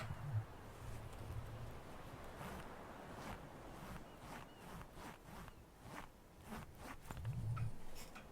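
A fabric zipper rasps in a run of short bursts over a few seconds, close and fairly quiet, with no talking.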